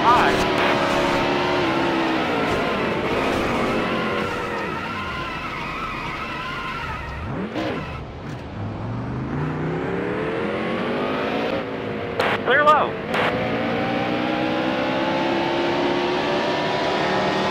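Cars roar past with rising and falling engine pitch, several passes sweeping by in succession with tire skids and revving, while voices talk over the motor noise.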